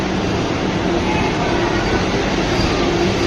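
An orange 20-coach Vande Bharat Express from Visakhapatnam arrives at Secunderabad station, a dense, steady rumble and roar of the train close by, filling the whole stretch without a break.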